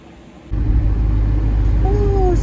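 A car's air conditioner kicks on abruptly and then blows a steady, fairly loud broadband whoosh inside the cabin, with a brief faint tone near the end.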